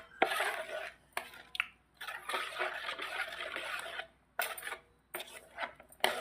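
Metal utensil clatters and scrapes as a big batch of tomato pickle, several kilos glossy with oil, is stirred and mixed in a large pot, with bursts of scraping separated by brief pauses.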